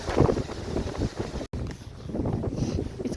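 Strong gusty wind buffets the microphone during an outdoor horse ride, a loud continuous roar with brief dropouts and no talking.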